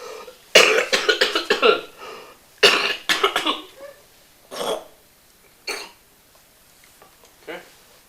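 Coughing from a person with cystic fibrosis after a huff breathing exercise, done in a car: several loud, wet bursts in quick clusters, then fainter single coughs spaced a second or so apart.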